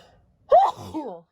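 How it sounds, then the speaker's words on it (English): A single short sneeze bursts out sharply, followed by a brief trailing vocal sound, close and alone. "I'm going to sneeze."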